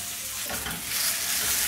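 Potatoes with turmeric, salt, dried chilli and panch phoron sizzle loudly and steadily in a hot pan, a brief burst of close frying noise that swells slightly toward the end, with no voices.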